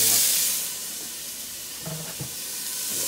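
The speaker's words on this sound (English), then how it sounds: "A little bit of oil. Fry up." Food fries in a little oil with a steady, broad hiss and sizzle, loudest at the start and easing slightly. Faint low murmurs sound in the background.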